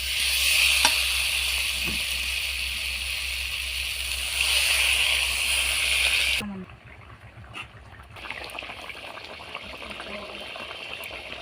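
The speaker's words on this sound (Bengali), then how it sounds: "এবার আমি জল দিয়ে দিচ্ছি" Water goes into a pan of sautéed kohlrabi, a loud sizzling rush that holds steady for several seconds and then drops abruptly to a quieter simmering bubble with faint stirring.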